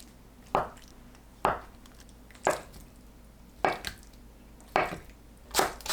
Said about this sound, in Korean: 두부는 한입 크기로 썰어주세요.